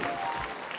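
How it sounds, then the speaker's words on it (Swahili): A brief burst of applause from a gathering at a life celebration memorial, dense clapping lasting under a second with a voice faintly underneath. "thank you, makofi"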